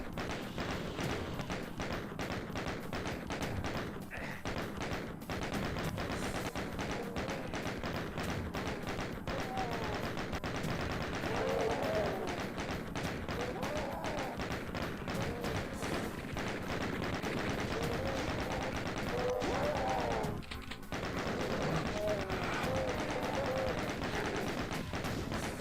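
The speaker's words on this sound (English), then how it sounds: "Come on, chain gun, do your job." Rapid, sustained chain gun fire in DOOM II, a dense stream of loud gunshots that runs almost continuously with a brief break near the end.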